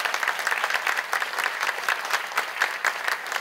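Applause fills a church hall during a teachers' appointment and award ceremony, steady and dense with no voices over it, as a congregation claps in encouragement.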